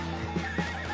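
A horse in a video game whinnies over soft clip-clopping hooves, a short close neigh with two quick snorting bursts.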